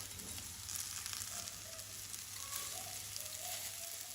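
Meatballs sizzle and fry in a pan after being turned to cook on both sides, a quiet, steady crackling hiss with small pops and no voices.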